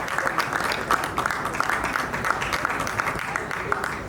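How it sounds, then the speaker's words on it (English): Audience applause at a film financing conference, a steady wash of many hands clapping at moderate level, with a few voices mixed in underneath. "A round of applause, please"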